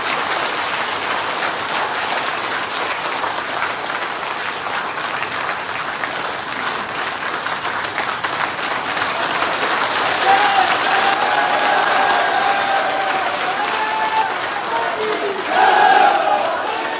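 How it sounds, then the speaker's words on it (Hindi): An audience at a BJP intellectuals' conference in Jaipur Rural South applauds loudly. The clapping is dense and sustained, like a wash of sound, and swells slightly near the end. "इतनी जोरदार ताली बजाने से दो काम हो गए।"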